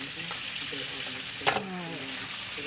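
Cubed steak frying in a pan with onions, heard as a constant loud hiss of sizzling fat and one sharp utensil clack partway through, with a person speaking briefly over it.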